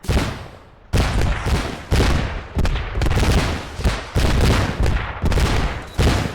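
Rifle shots fired at 100-meter targets on an outdoor shooting range, a loud, close volley of about eight cracks roughly one per second, each ringing out before the next.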